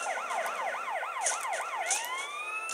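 An ambulance siren in GTA San Andreas wails in fast, rising-and-falling yelps, loud and continuous, before switching to a longer sweeping tone near the end.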